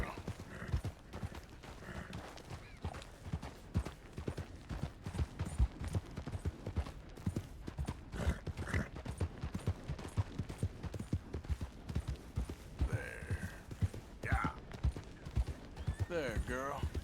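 Horse hooves clip-clop in a steady rhythm across ground in Red Dead Redemption 2, the mount a skittish mare, with the rider talking intermittently over the hoofbeats.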